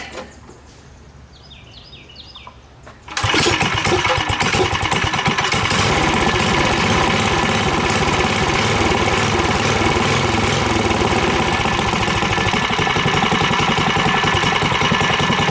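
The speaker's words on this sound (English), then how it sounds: "Let's make her start." A Predator 301 engine on a Coleman KT196 go-kart fires up abruptly after a few quiet seconds and settles into a loud, steady, close-up idle with a constant rattling chug, birds faintly audible before it starts.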